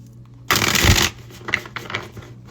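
A deck of oracle cards being shuffled close up, with one dense riffling burst followed by a few lighter flicks and taps of the cards.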